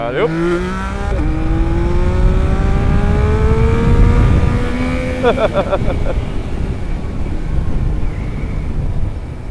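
A Yamaha MT-09 motorcycle accelerating hard in low gear to lift its front wheel, its engine note climbing sharply through several upshifts, loud and close, with wind rush as it pulls away.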